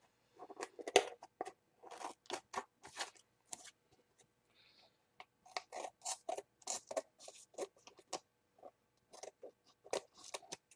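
Scissors trim a cardboard puzzle piece, making a quiet, close series of crisp snips and crunchy cuts in short bursts separated by brief pauses.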